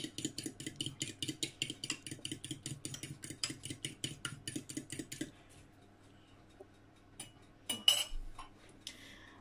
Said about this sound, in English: Okay, so I'm going to whisk up the eggs.